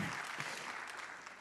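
A congregation claps together during a religious testimony gathering, a continuous wash of applause that is faint and somewhat distant, with no distinct individual claps standing out.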